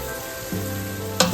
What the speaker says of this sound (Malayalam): നമ്മുടെ സബോള നന്നായിട്ട് വഴറ്റി വന്നിട്ടുണ്ട് കേട്ടോ